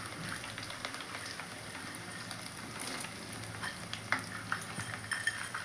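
Cumin, mustard seeds, split chickpeas, moong dal and fenugreek sizzle steadily in hot oil while tempering for an amaranth leaf tamarind stew, with a continuous crackle and occasional sharper pops, close and fairly quiet, no talk.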